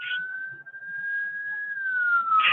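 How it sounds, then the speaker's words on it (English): An ambulance siren passing on a city street, one long steady wail that slowly drops in pitch as it moves by, loud and fairly near, with faint street noise and no talk. "let this other ambulance pass"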